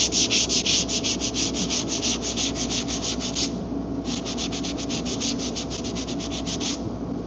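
Hand sanding of faded body filler putty on a damaged panel of an Infiniti Q50 twin turbo: close, loud rhythmic back-and-forth rasping strokes in a steady fast run, a brief pause, then more strokes, with no talk.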